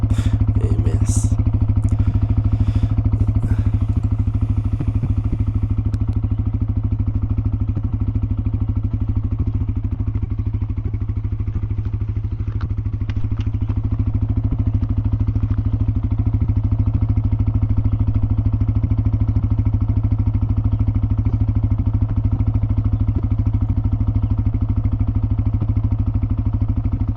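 A Zontes 125 motorcycle ridden on the road, its mid-pitched engine drone steady and loud throughout, with wind rush and occasional clatter and knocks on top; no speech.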